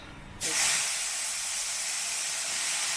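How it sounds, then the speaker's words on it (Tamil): Potatoes shallow frying in oil in a home kitchen, bursting into a loud, steady hiss and sizzle after a short quiet start, continuous and close with no talking. "உருளைக்கிழங்கு ஃப்ரை ஆகிட்டு இருக்கு."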